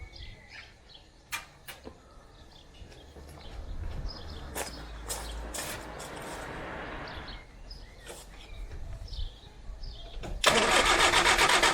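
A rare 1970s Austin Allegro under revival has its engine cranked over, with scattered clicks and knocks building into a loud, sustained burst of harsh mechanical noise near the end.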